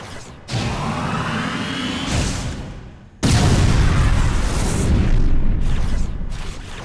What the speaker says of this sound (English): How about you try using a power bomb?